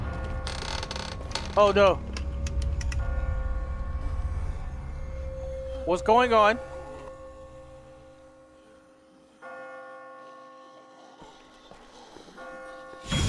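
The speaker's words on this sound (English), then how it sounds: "Who could be ringing the bell?" Bells ringing in The Walking Dead video game, two short bursts of clanging tones around two and six seconds, with a tense voice speaking briefly over ambient game sound.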